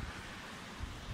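Outdoor wind buffeting a microphone, a low rumbling gusty roar that swells and fades briefly, fairly faint, with no voices.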